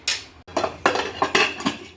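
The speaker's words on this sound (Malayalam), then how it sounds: "കുക്കർ അടച്ച് വെക്കുക" A pressure cooker lid is fitted and closed over vegetable biryani, giving a quick run of sharp metallic clanks and clinks, loud and close, with a short silent gap early on.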